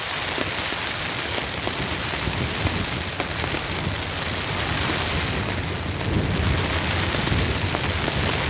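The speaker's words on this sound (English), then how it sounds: "Thunder." Heavy rain pounds a tent during a severe storm at a campsite, a dense constant hiss, with a low roll of thunder swelling beneath it midway.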